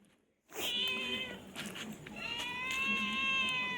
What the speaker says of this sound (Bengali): ম্যাও ম্যাও